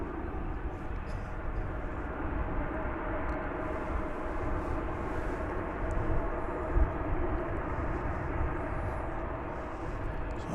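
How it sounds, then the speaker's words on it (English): American Airlines Boeing 737-800 at DFW Airport, bound for Austin, a steady distant jet engine roar holding across ten seconds with a faint lower rumble. "It's American Flight 1923. 737-800 going to the state capital of Austin"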